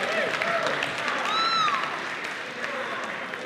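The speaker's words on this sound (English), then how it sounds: "We have to clap for them." An audience claps in a steady, fairly loud burst of applause, with a few raised voices and a brief whoop rising above the clapping.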